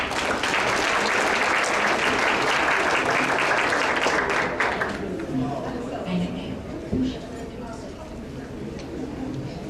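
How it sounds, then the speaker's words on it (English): Audience at a volunteer recognition ceremony clapping in a dense, sustained round that fades after about five seconds into scattered claps, murmuring and a few stray taps. "Let's give a round of applause to Mai Thanh Liu."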